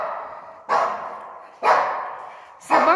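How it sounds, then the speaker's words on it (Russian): A dog barks three times at roughly one-second intervals, the barks fairly close and sharp, each followed by a brief echo in an indoor space. "Ругается, там собака пришла."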